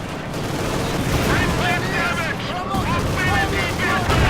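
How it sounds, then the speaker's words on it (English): Machine-gun bursts and tank main-gun blasts ring out in the Company of Heroes 2 World War II strategy game, dense rapid gunfire and booms layered under a caster's excited talk. "Blasting away the machine guns and main gun"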